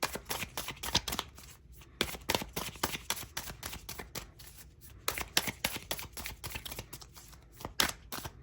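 Cards from a tarot-style deck shuffled and drawn close up, a dense stream of crisp riffling and snapping flicks with short gaps between bursts.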